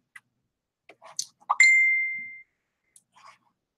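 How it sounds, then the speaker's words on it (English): Phone notification dings: a few soft taps and clicks, then one clear ringing ding that decays over about a second, followed by faint ticks in an otherwise quiet room. "let me turn the notifications off on here because it's gonna keep dinging."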